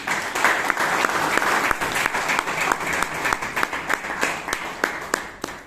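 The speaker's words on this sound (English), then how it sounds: "Please give a big round of applause to everyone." Applause for speakers at a Toastmasters meeting in Bangalore, a room full of hands clapping steadily with sharp individual claps standing out, thinning into scattered separate claps near the end.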